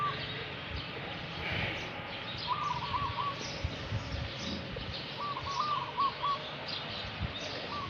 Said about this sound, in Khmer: មានឮតែសំឡេងសត្វយំ សំឡេងមាន់ទាអីគឺធម្មជាតិល្អមែនទែនស្រុកស្រែ